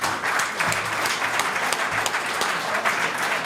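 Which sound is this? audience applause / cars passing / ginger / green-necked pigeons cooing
audience applause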